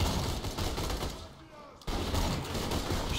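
Gunfire from a sniper rifle in the video game Borderlands 2, a dense burst of loud shots filling the clip, broken by a short quieter gap before firing resumes.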